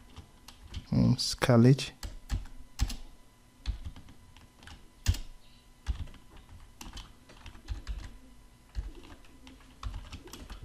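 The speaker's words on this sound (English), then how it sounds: "Let's type the name of the school, St. John's" Steady clicking of computer keyboard keys being typed in uneven bursts, close and moderately loud, with a brief spoken word near the start.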